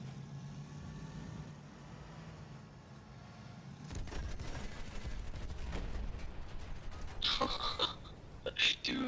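Video game gunfire during a battle against a dreadnought, starting as a low engine drone and then breaking into dense, rapid shots and sharp impacts that grow busier toward the end.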